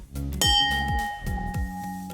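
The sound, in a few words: bell rung to celebrate sales wins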